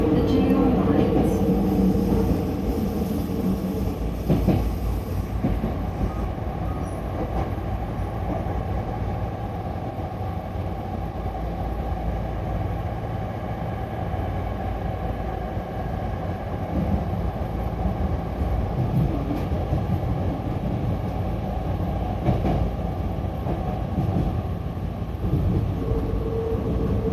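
A Hankyu Railway train runs toward Takarazuka terminal, a steady rumbling roll of wheels and motor heard from on board, continuous and fairly loud, with faint announcement voices early on.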